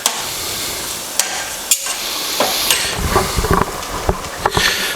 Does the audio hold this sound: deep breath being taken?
no